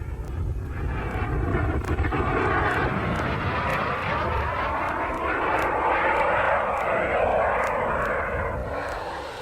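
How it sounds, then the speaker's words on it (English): A radio-controlled model jet aircraft flies overhead with a steady high whining roar that swells and fades slightly, mixed with wind noise and faint ticking clicks throughout. "At such speeds, jet models can become a tiny dot in the sky in a matter of seconds."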